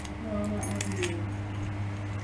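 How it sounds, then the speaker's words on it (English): A bunch of keys jangles softly and close by in a light, continuous metallic rattle, with faint background murmur and a low steady hum. "I got her keys."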